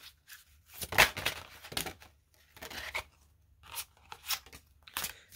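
Tarot cards are shuffled in several quick, crisp bursts of riffling and flicking, close and fairly quiet, separated by short silences.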